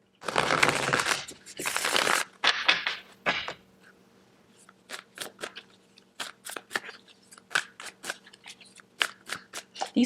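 Large oracle cards being shuffled: dense riffling bursts at first, then a string of sharp, crisp card snaps and flicks, close-up and fairly loud, with no voices.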